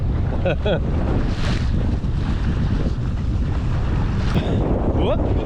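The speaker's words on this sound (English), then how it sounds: "Sailing under jib and mizzen only is quite nice, but you're very slow, as you can tell." Strong wind roars across the microphone aboard a wooden lugger sailboat under jib and mizzen, with a steady loud rush of air and water throughout and brief faint creaks.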